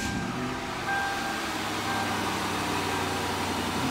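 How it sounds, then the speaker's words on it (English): A 2003 Mercury Marauder's engine runs at a steady idle after starting, a low, even rumble with faint whine tones, close and continuous with no talk. "The car is starting up and running flawless."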